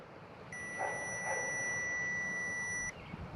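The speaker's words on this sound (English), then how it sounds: "and you'll hear a beep." A multimeter continuity test gives a single steady electronic beep, clear and sustained for about two and a half seconds, with quiet background before and after.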